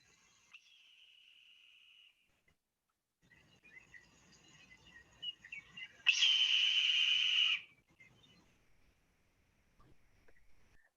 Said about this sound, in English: So we'll listen now to that red tail hawk call.